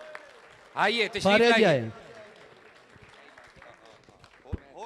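Audience at an international Punjabi conference in Lahore breaks into a loud, brief burst of applause over a speaking voice, then fades back under continued talk.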